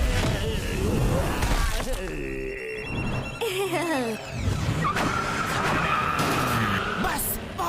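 Cartoon zombies drive big vehicles, with engine roars, screeching tire skids and crashing effects in a loud, busy mix while characters shout over the action.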